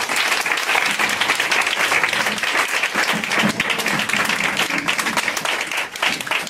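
A church congregation claps and cheers for Jesus in loud, steady applause that fills the room without a break, with a few voices calling out among the crowd.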